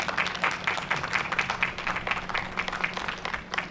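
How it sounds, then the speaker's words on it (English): A crowd at a fifth-grade promotion ceremony applauds National Honor Society students with steady, moderately distant clapping throughout. "So give yourselves a round of applause."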